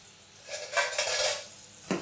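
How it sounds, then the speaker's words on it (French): Butter melting in a pan over low heat for garlic-parsley snails, heard as a soft, close sizzle that swells and settles over a couple of seconds, ending with a light utensil clink. "qu'on va faire fondre notre beurre"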